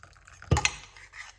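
Garlic and lemon tea poured off into a cup, a brief liquid splash with a clink of kitchenware, close and fairly quiet, no talking.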